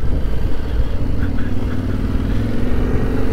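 Steady engine hum of a Yamaha Ténéré 700 motorcycle ridden along a trail, a continuous mid-pitched drone with slight throttle variation, close and fairly loud.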